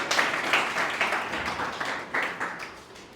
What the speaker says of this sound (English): Please invite him with your clap